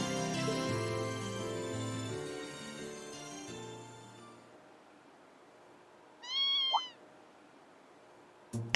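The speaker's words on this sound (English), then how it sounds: "What's a kitten doing here?" A kitten meows once in Trails of Cold Steel II on PS4, a short rising and falling cry that stands alone after the game music fades out.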